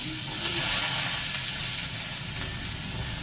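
Onions dropped into hot oil, a loud steady close sizzle and hiss that continues throughout without pause.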